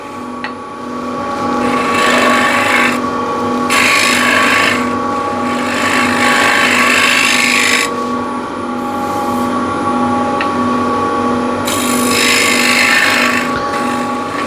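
Large bowl scraper cutting yew wood on a spinning lathe, a loud, continuous rasping scrape over the steady motor hum, rising and easing as the tool shifts against the cross grain, close by with no talk.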